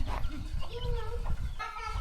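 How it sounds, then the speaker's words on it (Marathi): Village country chickens, with small chicks nearby, cluck in short bursts at moderate distance on a rural farm, mixed with background voices and outdoor activity. "आपल्याकडे गावरान कोंबड्या आहेत"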